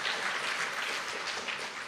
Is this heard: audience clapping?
yes